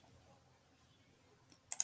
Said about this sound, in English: So typing that in on the calculator.